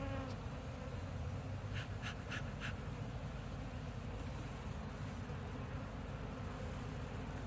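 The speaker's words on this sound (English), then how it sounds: "Bees are definitely coming out now." A constant low buzzing drone of many honey bees from a log hive, steady and fairly faint, with a few brief higher chirps midway and no voices.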